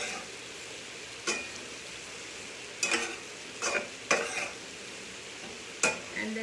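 Okra and potatoes being stirred in olive oil in a pan, with several brief scraping swishes spaced irregularly over a faint steady sizzle.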